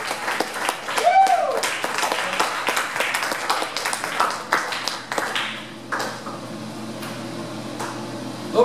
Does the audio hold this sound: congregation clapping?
yes